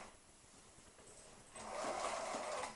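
Sewing machine stitching a kitchen hand towel, a quiet start giving way to a steadier, louder run of stitching over the last second or so, with no talk.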